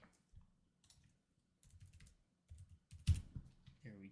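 Computer keyboard being typed on to enter an encryption password, quiet close irregular bursts of key clicks with short pauses, ending in a slightly louder keystroke.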